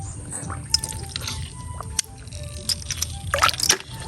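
Feet step and splash into shallow water while hunting bagungon (telescope shells), with scattered drips and a burst of sloshing near the end over a low rumbling background.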